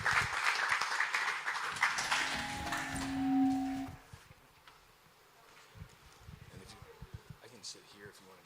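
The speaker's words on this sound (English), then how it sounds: "let's give them a big round of applause" An audience applauds as panelists come on stage at an open-source conference, a crisp patter of clapping under a speaking voice that fades into scattered claps.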